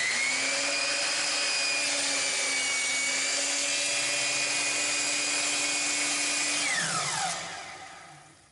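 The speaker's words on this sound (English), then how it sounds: "I'm going to turn on the saw. I'll plunge down, and then I will slowly push back so it gives me a nice, clean cut" A power saw plunges into wood and cuts with a loud, steady high whine held for about seven seconds, then drops sharply in pitch and winds down as the blade slows to a stop.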